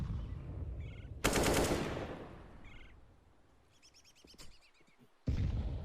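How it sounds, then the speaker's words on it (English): Rifle fire in a professional Counter-Strike match on the Inferno map: a long rapid spray of shots, a quieter stretch with faint game ambience, then another sharp burst at the end. "Glaive spraying the smoke, kills Acor, pushing down"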